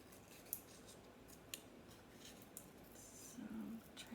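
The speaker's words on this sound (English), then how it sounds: "So try to turn the paper and not the scissors." Scissors snip through paper for a card-making craft, a quiet, close series of small crisp cuts spaced irregularly across a faint room background, with no talking.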